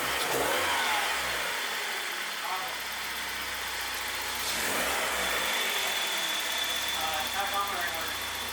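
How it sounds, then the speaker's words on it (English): A BMW E36's engine revs and settles through two broad swells of roar, the first near the start and a stronger one midway, over steady idle rumble, with people talking close by throughout. "give her a few revs"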